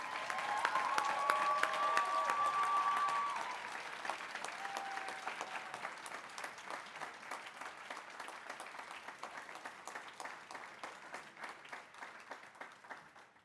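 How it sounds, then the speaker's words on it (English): Sustained audience applause at an awards ceremony for a student writing challenge, with dense clapping that is loudest at first and then settles into steady, even clapping continuing to the end. "Give them another round of applause"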